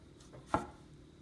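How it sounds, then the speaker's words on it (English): A knife chops once through a tomato on a cutting board, dicing it into quarter-inch pieces: a single close, crisp thunk in a quiet room. "I'm going to turn it and cut this into nice 1/4 inch pieces"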